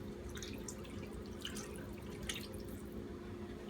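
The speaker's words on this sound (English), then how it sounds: "what we're going to be doing is adding more water to this" Water poured into a crock pot holding a pot roast, a steady splashing trickle with faint drips running throughout, close and alone with no talking.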